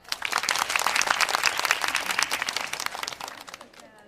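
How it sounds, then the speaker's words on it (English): A crowd at a storage-unit auction applauds the winning bidder, dense clapping that swells quickly, holds strong for about three seconds, then tapers off. "Please, a round of applause for her."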